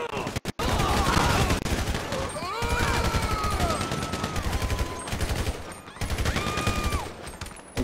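Rapid bursts of automatic gunfire from guards in GTA 5, loud and sustained, with brief pauses between volleys and game sound effects layered over the shooting.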